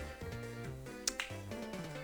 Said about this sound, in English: Hope you can catch me clapping